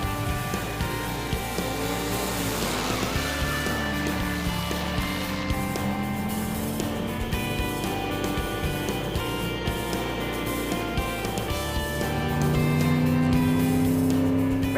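A supercharged Ford Thunderbird on a cold winter road trip, its engine droning steadily at cruising speed inside the cabin, with rising and falling tones as it motors along.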